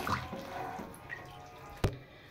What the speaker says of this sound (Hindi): हमने जो डिप करके रखे थे बड़े, इसको हमने कैसे करना है कि इसका पानी अच्छी तरह से निकाल लेना है